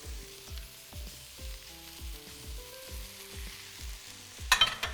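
Browning onions sizzle in a pan with peppers, aubergine and courgettes for a savoury pancake filling, giving a steady frying hiss with rhythmic stirring scrapes and a sharp clatter near the end.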